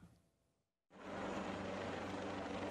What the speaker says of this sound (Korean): 서울소방본부가 이탈리아에서 새로 도입한 소방 헬기 AW189입니다.